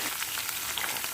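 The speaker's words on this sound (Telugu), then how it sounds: "పచ్చిమిర్చి బీన్స్, అవి కరివేపాకు, అవి ఫ్రై అయ్యేంత వరకు వేసుకోవాలి" Green chillies, beans and curry leaves fry in a hot pan, giving a steady, soft, close crackling sizzle with faint popping throughout and no voices.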